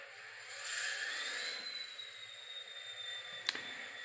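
A TT scale Class 66 diesel model locomotive starts its sound module and settles into a steady idle, a continuous hum with a rising whine that holds alone, closed by a brief sharp click near the end.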